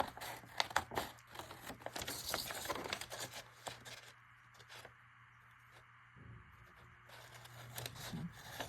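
Scissors cut wrapping paper along the edge of a square card, with close crisp rustling and crinkling snips in an uneven rhythm, a quieter pause midway, then more paper handling.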